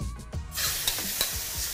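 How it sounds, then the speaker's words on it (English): Chicken hits smoking hot oil in a wok with a loud sudden hiss that settles into steady close sizzling, broken by a few stirring scrapes and knocks. "Got to have that sizzling sound."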